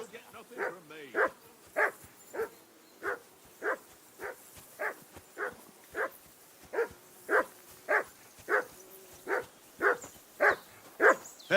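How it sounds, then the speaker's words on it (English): A dog in Kingdom Come Deliverance 2 barks steadily and evenly, close by, with about twenty sharp barks in a row and short quiet gaps between them. "Call off that mutt of yours!"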